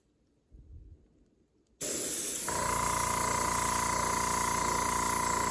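After a moment of quiet handling, an airbrush spraying paint starts with a loud, steady hiss abruptly and continues unbroken, with a tonal whine joining shortly after.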